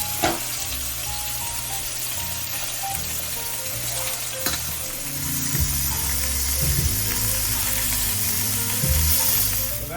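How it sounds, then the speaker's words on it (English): Brisket searing on a hot cooktop pan, prepared for a holiday meal: a loud, steady sizzle and fry with occasional crackles and faint stirring clatter, close and continuous with no talk. "Now we're going to get the pan ready to sear the meat."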